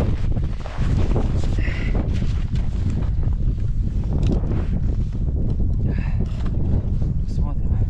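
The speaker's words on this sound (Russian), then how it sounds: "И ветер" Strong wind buffets the microphone out on the ice during winter pike fishing with tip-ups in a snowstorm, a constant loud roar and rumble with brief voices and crunching steps.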